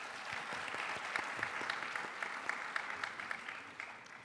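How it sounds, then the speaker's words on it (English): An audience applauds after a Bharatanatyam dance performance, a dense, even patter of many hands clapping at moderate distance that holds steady for a few seconds before thinning toward the end. "Let's give them another round of applause."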